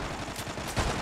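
Gunfire in the online shooter Zula, as a headshot lands: a short burst of sharp, clipped shots in quick succession, moderately loud and without voices.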